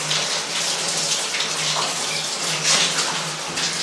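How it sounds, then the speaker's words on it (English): Water running steadily inside an old mine, where lead and silver ore is exposed; a continuous, close gushing and trickling wash like a filling tub, with a faint low hum beneath it and no voices. "When you hear noise in the mine, it's almost always water."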